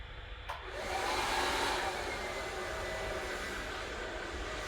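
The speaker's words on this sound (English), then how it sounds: "So let's start the blow dryer." A hair blow dryer switches on during a live styling class, a brief click and then a steady loud breathy roar that holds evenly throughout.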